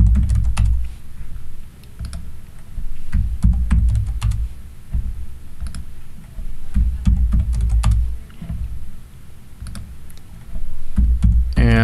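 Steady typing on a computer keyboard while working on a layout in SketchUp: bursts of quick, close keystrokes with short pauses between runs, no voices.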